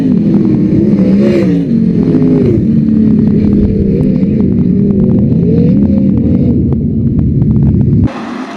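Race cars in a heat race at Attica Raceway Park, a loud, close engine roar with rising and falling revs as the field accelerates, running continuously before cutting off abruptly near the end.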